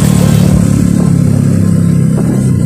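Loud motorcycle engine while riding through San Salvador, a steady close throbbing rumble with slight shifts in revs and some rattling clatter throughout.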